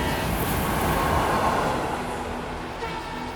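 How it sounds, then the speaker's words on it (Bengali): A moving train speeds past in a village ghost audio story, a dense, continuous rumbling roar with a faint tonal horn-like hum running through it. "চলন্ত ট্রেনটা তার পাশ কাটিয়ে তীব্র গতিতে এগিয়ে গেল তার গন্তব্যে।"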